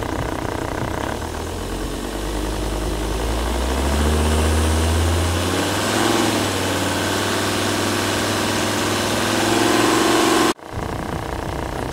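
A car engine runs steadily, then revs up to about 2,500 rpm and holds a higher, constant drone for several seconds before a brief cut and settling back, during an alternator output test.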